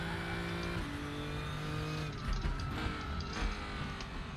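The engine of a 2013 ADAC Nissan GT-R race car at Dekra Lausitzring in RaceRoom drones and shifts pitch under load, a steady close engine note with slight dips and tire noise, no talk.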